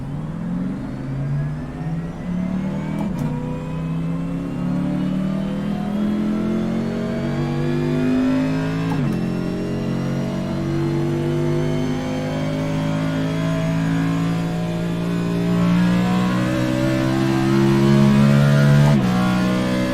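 A car pulls away for a brake test, its engine revving steadily and rising in pitch as it accelerates, with gear-change dips and a loud, continuous drone close by throughout.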